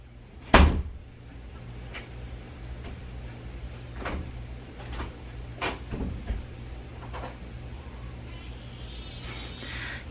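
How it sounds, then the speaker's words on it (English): A child working a cupboard door indoors: one sharp loud bang near the start, then several softer knocks and clicks spread across the rest. "He opened the door twice and now he can't open it again."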